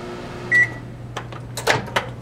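A microwave oven with a glow stick inside hums steadily at a low pitch, with a short beep near the start and several clicks and clunks from the door or cupboard toward the end.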